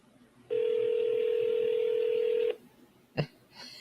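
Telephone call on a dialed line: a single steady ringback tone holds for about two seconds, then a short click and faint noise follow, close and clear with no talk over it.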